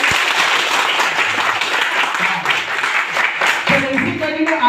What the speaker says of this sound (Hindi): तो एक बार जोरदार बताइए ताली।